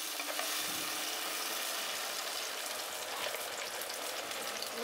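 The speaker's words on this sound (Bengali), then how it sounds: "দিয়ে দিচ্ছি টমেটো বাটা বা টমেটো পিউরি। এটা একটু কষিয়ে নেব।" Tomato puree cooks down in a pan for a chicken curry, giving a soft, even bubbling sizzle with light spattering, fairly faint and without any voices.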